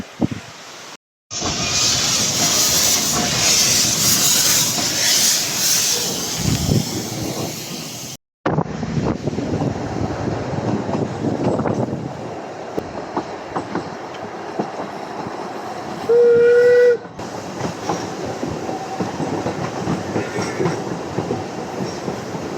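A steam train on the Isle of Man rumbles and rattles steadily with wind buffeting the microphone, broken by brief cuts and a short high whistle-like tone midway.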